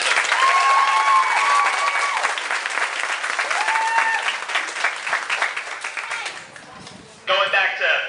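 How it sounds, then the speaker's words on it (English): Audience applause for a high school concert band after a band assessment, dense sustained clapping from a large crowd that fades over several seconds, then swells briefly again at the end, with a few voices and whistles mixed in. "Let's give them a round of applause for that."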